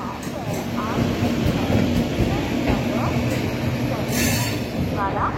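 A Bitragunta–Vijayawada MEMU train rolls into platform 4 at an Indian railway station. Loud, close rumbling and clattering carries brief wheel squeals and a sharp hiss burst near the end, under station noise.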